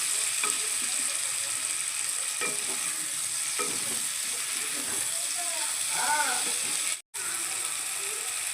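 Food frying in a pan while pasta is being cooked, a steady broadband sizzle with occasional stirring scrapes, close and continuous, briefly cut to silence near the end.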